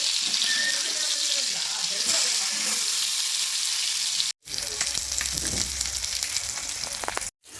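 Fish shallow-frying in a pan gives a loud, steady sizzle and crackle close by, broken twice by brief silent gaps, with light clatter as the pieces are moved.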